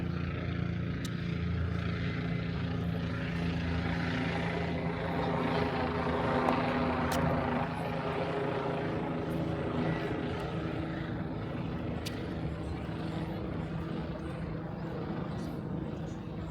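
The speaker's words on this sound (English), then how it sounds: "Helicopter's making another pass." A helicopter drones steadily directly overhead near a Brooklyn beach, its rotor thrum constant and fairly loud throughout, with faint voices underneath.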